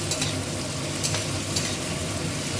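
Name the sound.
spices frying in oil in a pan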